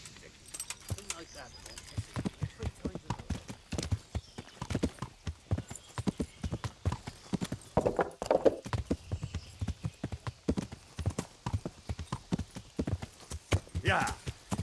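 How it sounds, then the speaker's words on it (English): A horse in Kingdom Come: Deliverance clip-clops steadily at a brisk pace throughout, with harness jingling and a short whinny, while a voice talks intermittently over the hoofbeats. "Let's call our horse."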